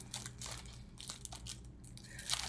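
A plastic-wrapped packet being worked open by hand, with steady close crinkling, crunching and rustling of the plastic bag throughout.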